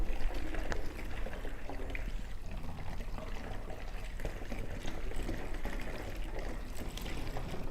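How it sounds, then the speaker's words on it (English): Heads Up mix solution poured out of a jug, a steady continuous liquid flow with a gentle trickling texture, close and moderately loud throughout with no talking. "And I'll just pour out the rest of the 50 here."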